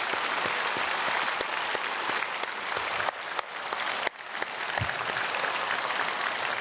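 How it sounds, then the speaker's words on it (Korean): A church congregation claps together for a soloist after a hymn, a dense, steady wash of applause that holds for several seconds with brief dips. "박수하겠습니다."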